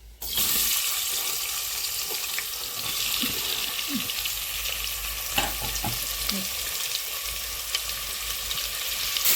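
Small onions and shallots sizzle in a pan of oil for a home-style chicken curry, a steady close hiss of frying with a few light stirring knocks.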